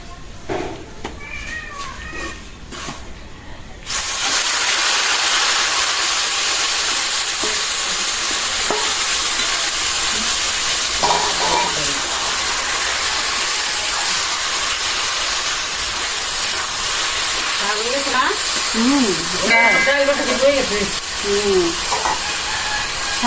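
Fried garlic and chili sizzle loudly and steadily in a pan once greens are tipped in, a dense close hiss that continues while a cat meows nearby and a voice is heard briefly.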